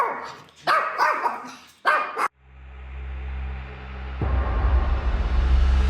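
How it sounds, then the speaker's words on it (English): A pet dog at an Airbnb rental barks several times in sharp close bursts, then falls silent as a steady low hum and rushing background noise take over. "she has the cutest dog"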